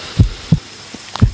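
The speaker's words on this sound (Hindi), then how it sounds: "आप मेरी हार्ट बीट सुन रही हो ना? आपको सुकून मिलता है मेरी दिल की धड़कन सुनने से।" A man's heartbeat heard close up with an ear against his chest: four soft, deep, thudding beats in a steady rhythm, muffled and intimate, with no other sound.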